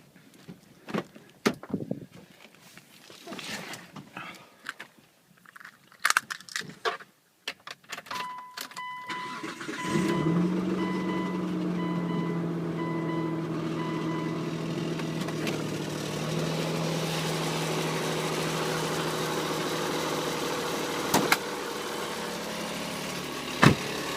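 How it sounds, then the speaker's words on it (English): A 2003 Mitsubishi Eclipse GTS is started cold after a few clicks and door or cabin noises, then the engine catches and settles into a loud, steady idle with a droning whine and knocking undertone that carries on to the end. "This video is here to show the cold start and the sound it makes when it starts up in the cold."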